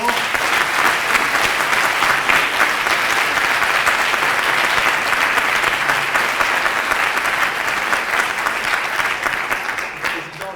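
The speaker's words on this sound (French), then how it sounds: "mérite pour cela un tonnerre d'applaudissements" A large audience at the French debating cup final gives sustained, dense applause, a steady roar of many hands clapping at once that holds loud for the full stretch and eases only slightly near the end.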